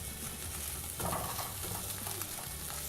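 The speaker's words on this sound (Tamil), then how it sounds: "இதை வந்து ஒரு 2 நிமிஷம் இந்த மாதிரி மிக்ஸ் பண்ணி வதக்கிடலாம்" Egg fried rice is stir-fried in a pan with vegetables and sauce, giving a steady close sizzle with soft scraping stirs throughout, no one speaking.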